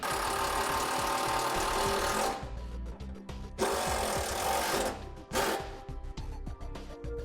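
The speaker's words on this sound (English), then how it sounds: "let's go ahead and mount a relay to the frame using another self-tapping screw" A power driver runs a self-tapping screw into a vehicle frame to mount a relay, a loud whirring grind in two bursts separated by a short pause, close up, with no talking.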